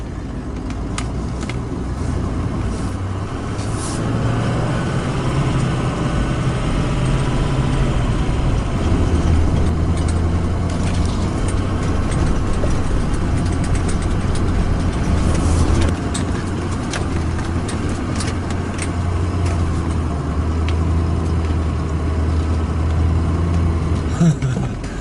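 A vehicle engine idles and runs steadily in a snowy wooded setting with fallen trees, a continuous low rumble throughout, with a person talking intermittently over it.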